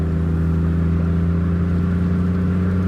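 A small Daihatsu Mira car's engine drones loudly and steadily from inside the cabin while it picks up speed, with an even hum and no talking.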